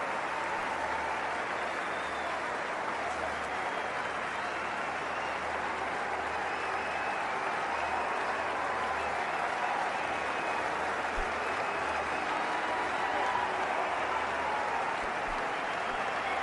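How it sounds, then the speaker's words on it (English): A large Indian cricket stadium crowd applauds a superb batting innings at an ODI match against South Africa, a broad, sustained roar of clapping heard from a distance with no clear speech on top. "Great ovation from the Indian crowd."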